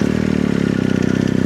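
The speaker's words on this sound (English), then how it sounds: "going to run the bike, get it to temperature, then turn it off" A BMW R 1250 GS Adventure motorcycle engine runs at a steady idle while warming up during an oil service, with a close, loud, rhythmic throb and a light mechanical clatter.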